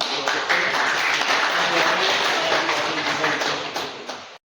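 An audience at a political party meeting breaks into loud, sustained applause, a thick wash of clapping close by that runs steadily before cutting off abruptly.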